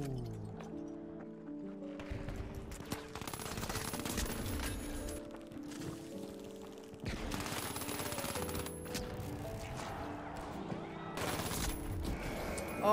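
Rapid video game gunfire from an M11 submachine gun, bursts of automatic shots in quick succession over a dense, continuous layer of game sound effects and music, loud and close throughout.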